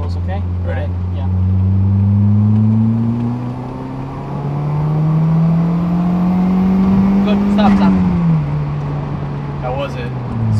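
A boosted Toyota MR2 Spyder pulls hard in third gear at full throttle toward 6,000 RPM, its engine note droning loudly and rising steadily, then dropping off near the end, with voices speaking briefly.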